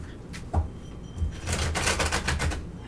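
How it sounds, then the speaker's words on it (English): Rapid papery riffling and soft slaps of tarot cards being shuffled, a quick burst of flutters following a few isolated taps. "One more shuffle."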